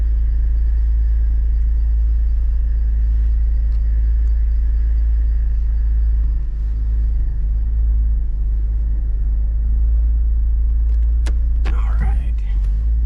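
A 2008 Pontiac G8 with a bad shake and a freshly replaced tie rod drives along, its steady low engine and road rumble filling the cabin, with brief rattling clicks near the end.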